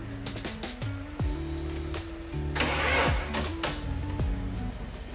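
A BMW E46 with a junkyard engine swap cranks repeatedly, the starter whirring in several short attempts with sharp clicks between them, close and clear, without catching.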